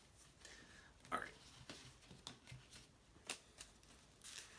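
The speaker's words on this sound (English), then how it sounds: "I'm going to go ahead and shuffle everything back" A Yu-Gi-Oh Shaddoll deck is shuffled by hand: quiet, irregular card slaps and riffling ticks spread over a few seconds, close and soft.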